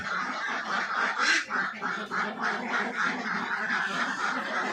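A flock of about 250 domestic egg-laying ducks quacks continuously in a dense, overlapping chorus, loud and close, with no talking.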